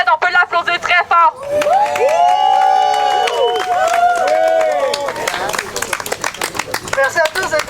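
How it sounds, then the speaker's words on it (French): Protest crowd at a Montreal youth sit-in, clapping and cheering after talk, with loud speech and shouts mixed through the middle and scattered claps near the end. "On peut l'applaudir très fort."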